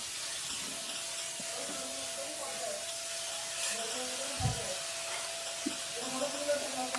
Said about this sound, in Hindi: टमाटर, सब्ज़ मिर्च भी यहीं पर हम इसमें शामिल कर देंगे और इसको भून लेंगे।